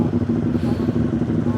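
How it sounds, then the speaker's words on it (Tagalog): A Honda Click version 1 scooter engine runs steadily nearby with a constant, buzzing drone and slight clatter, heard alone for under two seconds. "Yan yung Honda Click na version 1."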